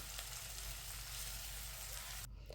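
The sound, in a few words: onions stir frying in oil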